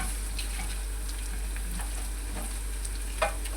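Garlic and onion brown in a pan for a Filipino banana heart dish, giving a steady, even sizzle throughout with no voices.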